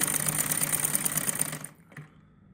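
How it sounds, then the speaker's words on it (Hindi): Electric sewing machine stitching piping onto a boat neck of a blouse, a steady fast whirring rattle up close that stops abruptly near the end, followed by a faint click. "अब हम इसको यहाँ पर रखकर सिलाई लगाते जाएंगे।"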